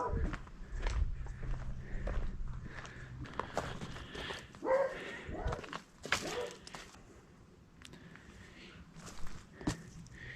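A dog shuffles and steps about nearby, giving short barks and yips amid scraping movement, with a person talking at times.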